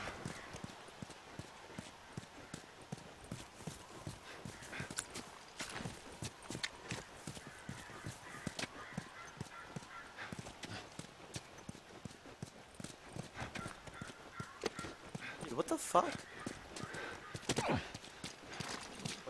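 Horse hooves clip-clop in The Last of Us, a steady rhythmic trot of one horse with a snort or whinny, fairly quiet amid game ambience.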